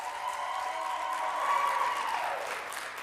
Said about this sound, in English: one more time, applause for Trevor